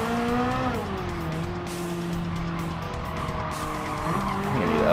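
A Ferrari F8 Tributo races around Autodrome Lago Maggiore in Gran Turismo 7, its engine note rising and dropping through gear changes while tires squeal and skid through corners, loud and close.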